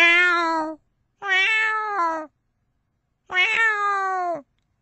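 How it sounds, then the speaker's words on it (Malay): Three separate, loud, close cat meows, each drawn out and wavering in pitch, with short silent gaps between them, heard at 1 a.m. from outside a house. "dengar kucing mengiau"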